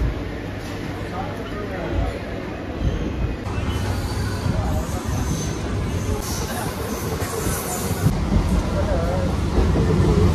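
Passenger train running and pulling into Khamargachi station on the Nabadwip route, a loud, continuous rumble of wheels and carriage noise heard from inside, with a high squeal early on and voices mixed in.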